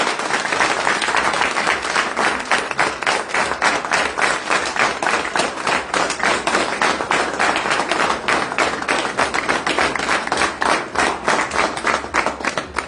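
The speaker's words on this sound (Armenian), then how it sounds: "բոլորս միասին ծափարել" A large rally crowd in Gyumri, Armenia breaks into sustained applause, dense rapid clapping filling the whole stretch at a steady, loud level with no break.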